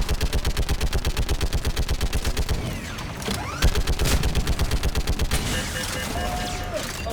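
Rapid, rhythmic turret gunfire in the video game Mass Effect 3 hammers loudly in a steady stream, pauses amid mechanical whirs and explosions, then resumes, with voices speaking during the action.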